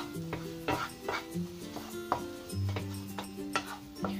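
A sesame and mawa laddu mixture with dry fruits being stirred by hand, giving a series of light scraping strokes and soft taps against the bowl or pan at a quiet level, with no voices.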